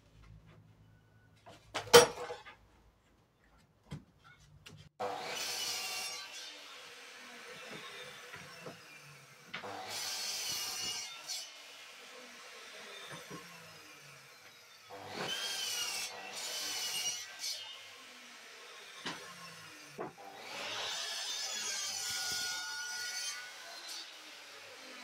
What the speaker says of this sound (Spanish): lo primero que vamos a hacer va a ser cortar cuatro maderitas de 25 centímetros